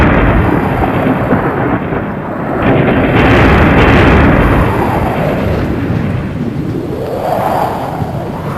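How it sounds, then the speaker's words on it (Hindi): Heavy storm at sea with rolling thunder: loud, continuous low rumble and roar swelling in waves, peaking mid-way, with no voices. "रास्ते में जोर से तूफान आया।"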